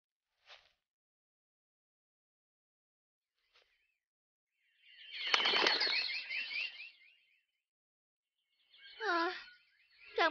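Cartoon birds in a Vietnamese animated fairy tale give short, bright chirps in two bursts of rising and falling tweets, separated by near silence and faint brief sounds.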